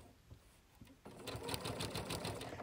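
A sewing machine stitches straight quilting lines across fabric, its fast, steady mechanical chatter starting abruptly after a quiet moment and running continuously and fairly close.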